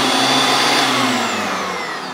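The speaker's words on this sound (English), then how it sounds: "Now let's just test her out. Starting with the planer." Planer on a 3-in-1 planer/jointer flip-top tool cart running loud and close, a steady high-pitched motor whine with a low hum that holds evenly and eases slightly toward the end.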